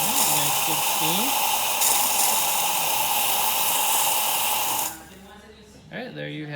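Olympia espresso machine steam wand releasing a steady, loud hiss of steam for about five seconds, then cutting off, with a brief voice at the end.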